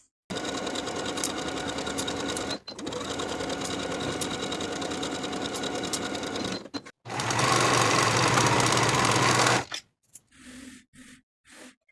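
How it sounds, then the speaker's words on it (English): A sewing machine running fast along the side seam of a pair of shorts, sustained buzzing bursts broken by brief pauses, ending in a few short stop-start pulses, close and alone. "Sew this side seam with a 1/2 inch seam allowance"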